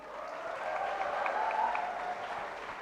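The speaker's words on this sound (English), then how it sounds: "Can we have a big round of applause" Audience applause for a panel at the FICCI Frames 2024 event, a steady, dense round of clapping from a crowd, sustained evenly throughout with faint voices mixed in.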